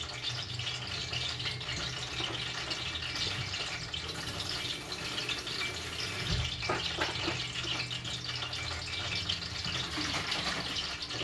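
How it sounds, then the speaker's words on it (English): Water runs steadily from a tap into a bottle, a continuous broadband rush with occasional knocks and rattles, fairly close. "I'm just going to catch some water to shake it out"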